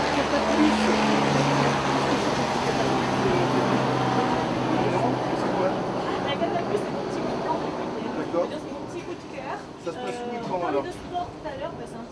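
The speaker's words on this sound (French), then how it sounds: "alors qu'un hélicoptère passe" A low engine drone with rotor-like thrum passes steadily across the scene, fading slightly, while people talk over it in the foreground.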